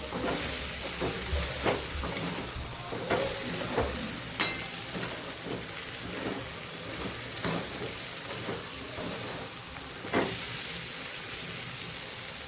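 Fried potatoes and ivy gourd are stirred with spice masala in an oiled pan for a Kathiyawadi-style curry: a soft, steady sizzle punctuated by repeated spatula scrapes and knocks at irregular intervals.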